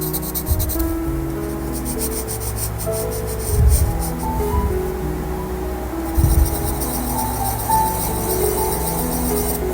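Pencil drawing in a sketchbook at a small desk, close continuous scratchy rubbing strokes with a couple of heavier thumps as the hand or paper shifts, under faint background music.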